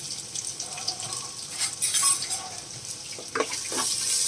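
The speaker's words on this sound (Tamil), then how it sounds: "கொஞ்சமாக வெந்தயம் வெங்காயம் சேர்த்துக்கிறேன் இப்போ இது நல்லா வதங்கி வரட்டுங்க" Fenugreek seeds and onion sautéing in a pan after mustard seeds, a low sizzle broken by a few scraping stirs and light clinks, with a watery trickle near the end.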